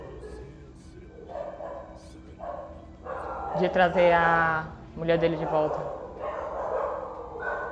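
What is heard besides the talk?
dogs barking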